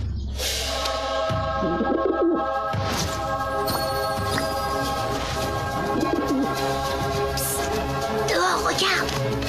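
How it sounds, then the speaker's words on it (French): A pigeon cooing and fluttering inside a classroom, soft repeated coos and rustling set against a steady background hum with muffled voices of pupils now and then. "celui qui a introduit le pigeon en classe"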